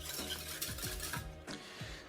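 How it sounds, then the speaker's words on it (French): A whisk scrapes and taps steadily against a pan while egg yolks are emulsified over medium heat, with soft rhythmic metallic strokes at a low level and no talking. "on va mettre à feu moyen et on va émulsionner ces jaunes d'œufs"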